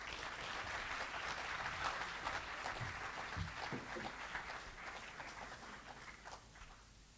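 A festive reception audience applauds, sustained steady clapping across the room at moderate level, with a few heavier thumps and shuffles near the middle and the ovation thinning slightly toward the end.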